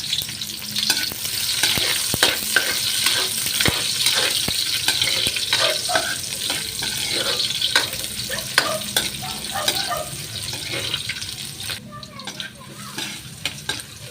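Garlic and onion sizzle and fry in a hot pan while being stirred, a steady close crackle with scraping utensil taps throughout and faint voice in the background.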